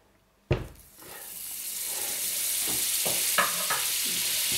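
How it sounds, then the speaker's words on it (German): Butter hits a hot frying pan for scrambled eggs with cheese and ham, a sharp sudden sizzle that settles into steady, growing crackling frying, close and loud, with no talk. "Wir geben die Butter in eine Pfanne."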